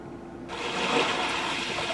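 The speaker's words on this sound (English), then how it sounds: "Calm sea waves." A recorded calm sea waves nature sound played inside a 2021 Genesis GV80 SUV: a soft, steady wash of water noise swells in after a brief quiet moment, a calm continuous rushing like gentle waves.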